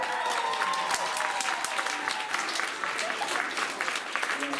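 Steady applause from an arts showcase audience fills the hall, dense and continuous, with a few voices and faint tones mixed under the clapping.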